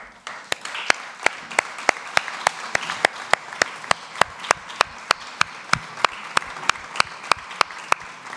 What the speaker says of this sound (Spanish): Ese aplauso que no decaiga.